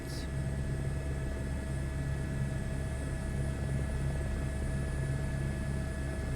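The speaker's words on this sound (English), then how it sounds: "This really sounds like an AS350, sorry, H125. It's Airbus helicopters now." Airbus H125 (AS350) helicopter in Microsoft Flight Simulator 2024, a steady turbine whine with a constant low rotor drone, continuous and unchanging throughout.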